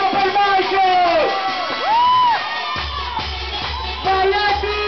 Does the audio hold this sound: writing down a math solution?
no